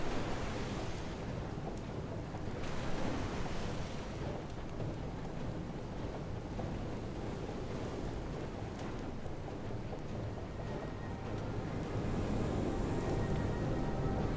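Ocean waves wash and crash against a small vessel in the video game Far Changing Tides, a steady broadband rushing roar with occasional heavier surges, continuous and fairly close.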